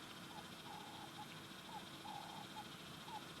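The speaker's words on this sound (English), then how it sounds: "That is a Cape turtle dove." A Cape turtle dove calls faintly in the distance in the African wild, repeating soft rhythmic coos over a quiet background hiss.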